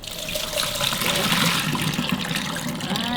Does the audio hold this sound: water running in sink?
yes